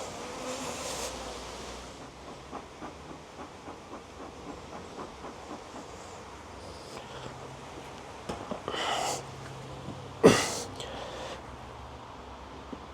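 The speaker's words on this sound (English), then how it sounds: "Bee's getting slightly aggravated." Aggravated honey bees buzzing at an opened hive during queen cell removal, a faint continuous droning hum with a few louder passes and brief handling knocks near the end.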